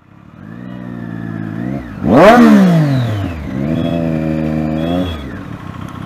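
Triumph Daytona 675 sport motorcycle in busy city traffic, its engine idling steadily, then a sharp rev that rises and falls away before settling back to a steady idle hum; close and loud throughout.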